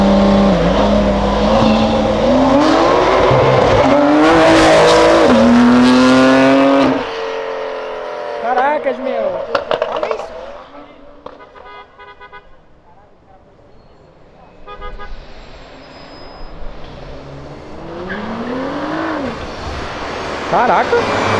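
A BMW accelerates hard in front of a police car. The loud engine roar climbs through rising revs, fades away, then surges again later, while excited voices shout over it.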